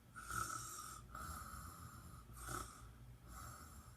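A person reading a story aloud imitates someone snoring, giving a few slow, rhythmic snores with breathy pauses between them at moderate volume.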